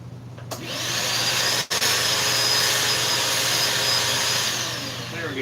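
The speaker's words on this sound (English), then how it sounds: "Just use a vacuum cleaner, that'll work." A vacuum cleaner runs steadily and loudly at close range, its broad whooshing drone holding nearly constant apart from one abrupt momentary cutout near the middle, with no talking over it.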